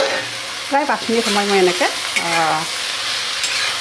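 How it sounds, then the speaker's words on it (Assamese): Chopped bottle gourd stirs and fries in a pan over a medium flame, with a steady sizzle running the whole time under a speaking voice. "মিডিয়াম ফ্লেমত ভাজিম"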